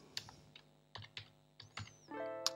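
Computer keys are tapped while coding, a handful of sharp separate clicks in an uneven rhythm, close and fairly quiet, followed by a short burst of faster typing.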